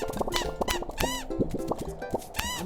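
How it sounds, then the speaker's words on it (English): In a Dream Daddy minigame, cartoon birds let out quick, bouncy squeaks in rapid, irregular bursts. Soft plopping hits mix in, and the squeaks stay close and fairly loud throughout. "They make a squeak noise."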